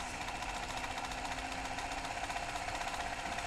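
A sewing machine runs a straight stitch at a steady, rapid mechanical whir with a fine rhythmic needle chatter, close and continuous throughout without pause.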